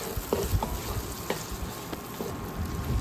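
Ginger and garlic paste stir-fried in a pan for beef bhuna, a low hissing sizzle broken by light, irregular spoon taps and scrapes, close and fairly quiet with nobody talking.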